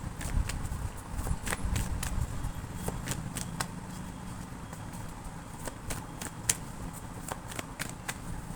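Tarot cards being shuffled by hand in a steady, continuous riffle of rapid papery flicks and taps, close and fairly loud throughout.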